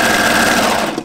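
Sewing machine stitching a sleeve seam in knit fabric for a jumpsuit, one loud, close, continuous whir that stops just before the end of the second.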